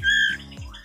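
Magpie robin chick giving a single short, harsh squawking call, close and loud, with a brief second rasp at the end.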